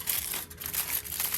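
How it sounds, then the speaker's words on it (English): Sculpting material is slowly crumpled and crunched into a figure's torso, giving a close, steady crinkling texture that swells and dips over a brief moment with no talking. "I always go pretty slowly with light crunching or crumpling."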